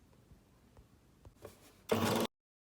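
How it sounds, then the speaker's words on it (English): Singer Starlet 6660 sewing machine stitching a decorative tulip-pattern stitch, a brief, fairly loud burst of fast mechanical whirring after some soft clicks, then silence. "Let's make that one and see how it looks."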